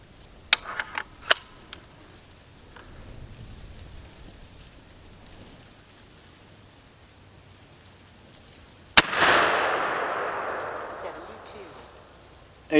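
A .58 caliber Zeus air rifle fires once with a sharp, loud crack, and a long hissing rush follows and slowly fades. Before the shot come a few faint clicks and soft handling noises.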